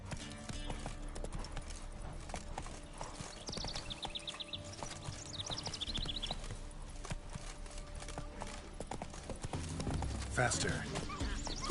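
Roach, the horse in The Witcher 3, gallops with rapid hoofbeats and gives a brief neigh, under a man's short spoken command and some in-game background sound.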